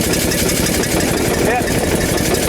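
A car engine runs loud and close as it is taken through the throttle, holding a dense, steady roar with a slight lift partway through.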